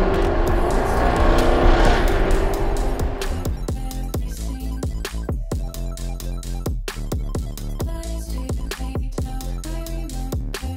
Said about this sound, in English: gonna take the car for a spin through some of those New Forest roads on the way home